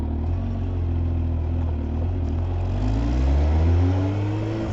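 A 2020 Kawasaki Ninja H2 SX motorcycle engine pulls through fourth gear, a loud, steady roar that rises smoothly in pitch toward the end.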